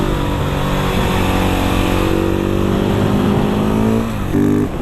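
A Husqvarna 701 supermoto motorcycle accelerating in first gear, its single-cylinder engine droning steadily and climbing in pitch, loud and close against rushing wind with a brief shift at the end.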